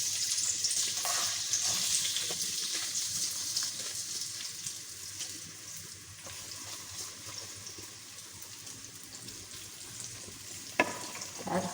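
Chopped vegetables fry in hot oil for a spicy keema aloo matar, giving a steady close sizzle with crackling spits that fade slightly midway. A sharp clink sounds near the end.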